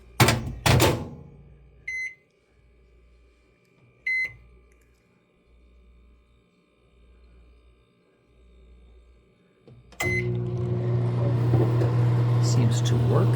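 A hotel room microwave oven at a DoubleTree by Hilton in Worthington, Columbus, starts with beeps, then a pulsing hum, and finishes in a steady loud whir near the microphone.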